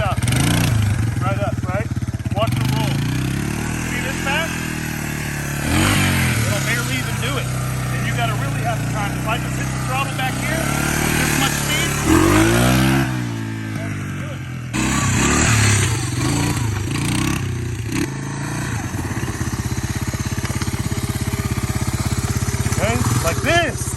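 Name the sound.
Honda ATC 250SX three-wheeler accelerating from dead stop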